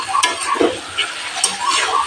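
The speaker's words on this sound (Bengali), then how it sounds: "চিকেন কষিয়ে নেব।" Marinated chicken being sautéed in a pan over medium heat, a steady sizzle with scattered light ticks and scrapes of stirring, close and continuous with no voices.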